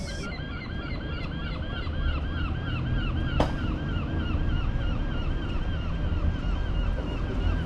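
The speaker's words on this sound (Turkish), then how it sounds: "Martılar." Seagulls in Edinburgh call repeatedly at a distance, a steady rhythm of cries layered over a constant outdoor wash, with a single sharp click partway through.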